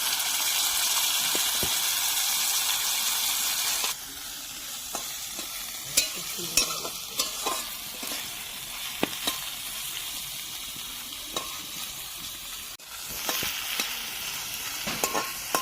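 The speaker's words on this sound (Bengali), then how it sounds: "এই যে ভাজা করার জন্য দিয়ে দিলাম।" Local prawns frying in hot oil in a pan: a loud, dense sizzle at first that drops to a softer crackle, with occasional spatula knocks and stirring scrapes, no talking.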